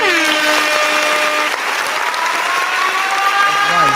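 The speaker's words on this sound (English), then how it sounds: "we giving a round of applause today too" A round of applause rolls on steadily and loudly throughout, with bright tonal, music-like sweeps layered over the clapping.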